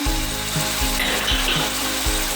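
Whole spices (green cardamom, cloves, black peppercorns and bay leaf) frying in hot oil for mutton korma, a loud continuous sizzle with a few soft thumps of stirring, no talk.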